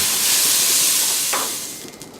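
Bamboo shoots and Chinese celery hit hot oil in a stir-fry pan, giving a loud, steady broadband hiss that fades slightly toward the end, with no talking.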